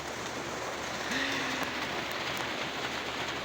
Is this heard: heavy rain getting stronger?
yes